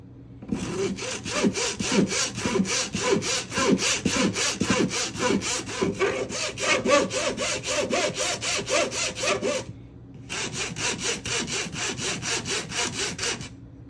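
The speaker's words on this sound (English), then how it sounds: "by just putting our spoon on the screen, we end up creating vibrations that'll send a lot of the finer powders through" A spoon rubbed rhythmically against a screen to sift aluminum and magnesium powder, giving a fast, steady scraping stroke repeated many times, close and clear, with a short pause before the strokes resume.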